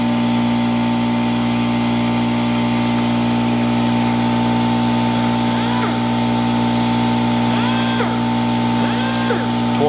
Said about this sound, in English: That huge cutoff wheel is gonna be really nice and convenient.